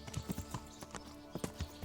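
Horse hooves clip-clop at a walk in Kingdom Come: Deliverance, a loose run of soft, fairly close hoof strikes lasting about two seconds.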